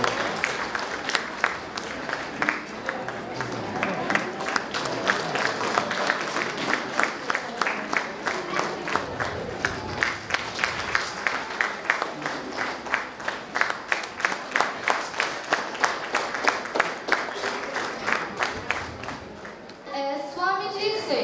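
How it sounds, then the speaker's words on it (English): Applause and clapping from an audience at a school Universal Brotherhood Day function honouring a guest, a dense, steady patter of many hands that carries on for about twenty seconds before fading, with brief talk near the end. "Give a round of applause to her."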